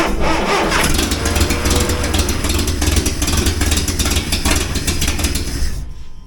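A 1963 Hillman Super Minx engine cranking with the choke on, a continuous loud, close churning and sputtering drone that holds steady for several seconds before cutting off abruptly at the end.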